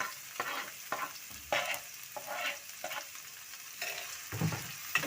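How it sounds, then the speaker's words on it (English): Onions dropped into heated oil and frying for creamed kunde, a constant sizzle with repeated clanks and scrapes from stirring, fairly close and moderately quiet, no voices. "So I've heated my oil. I'm going to put in my onions."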